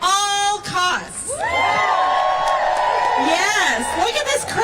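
A crowd at a public school advocacy rally in Texas whoops and cheers, mixing with an amplified voice speaking over the noise throughout the short stretch.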